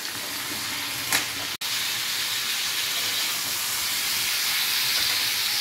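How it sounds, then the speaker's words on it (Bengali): A steady, bright hiss of vegetables frying with turmeric in hot oil runs throughout, close up, broken by a brief dropout and a faint clink early on. "দিয়ে আবার এটাকে একটু ভাজবো।"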